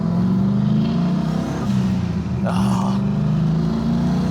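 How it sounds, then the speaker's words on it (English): Turbocharged 1000 hp Trans Am WS6 with a 6-speed manual cruising on the highway, steady loud engine drone heard from inside the car with a brief swell midway; a short exclamation is heard. "We are cruising on the highway in my 6-speed WS6."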